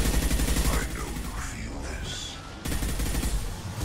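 Concussive shot gunfire in the video game Mass Effect 2, a dense rattling burst of shots that thins out and then resumes loud and close; no talk.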